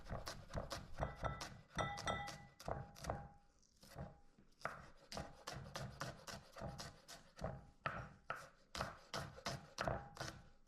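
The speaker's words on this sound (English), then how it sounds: "we're going to chop up just one shallot, one bulb of shallot" A knife chops one shallot bulb on a board in quick, even strikes, close and crisp, with a brief pause midway before the rhythmic cutting resumes.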